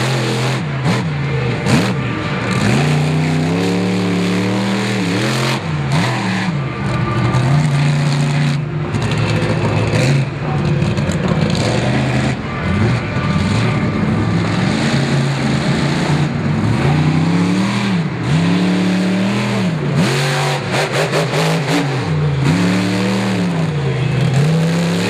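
A monster truck engine races around a dirt track at a 4-wheel jamboree in Indianapolis, loud and continuous, with repeated revving swells and gear-change dips under the steady drone.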